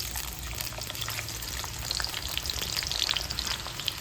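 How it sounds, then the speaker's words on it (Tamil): Thinly sliced onions fry in hot ghee and oil with a soft, continuous sizzle and scattered crackles, quiet and close, with occasional light stirring. "நல்லா தின் தின்னாக கட் பண்ணி வச்சுருக்கக்கூடிய வெங்காயத்தை போட்டுக்கலாம்"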